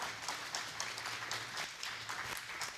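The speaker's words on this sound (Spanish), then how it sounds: "vamos a recibirlos con un aplauso" Audience applause welcoming guests onto a stage at a Spanish-language nutrition talk, steady dense clapping from a crowd, moderately distant and continuous with no speech over it.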